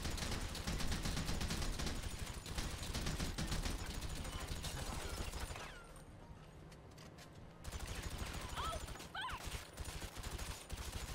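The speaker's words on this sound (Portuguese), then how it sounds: "Vou sair e vou atirar na casa, hein. Cadê a metraca?" Machine gun fire aimed at a house in GTA 5, dense rapid bursts of shots filling the scene, a brief lull midway, then more sustained firing.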